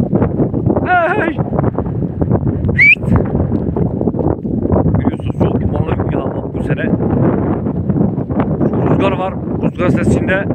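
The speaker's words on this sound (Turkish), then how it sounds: "Rüzgar sesinde." Wind buffets the microphone outdoors in harsh weather where shepherds are tending a flock of sheep. A continuous low rumbling roar runs throughout, with brief higher calls, likely bleats or voices, rising above it now and then.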